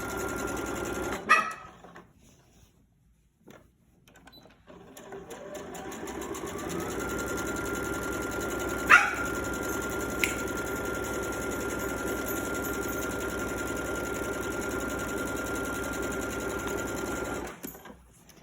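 A sewing machine stitches a quilt made from a bicycle panel. After a few quiet seconds with some bumps and handling, a steady fast whirring motor hum runs close and alone, then stops abruptly near the end.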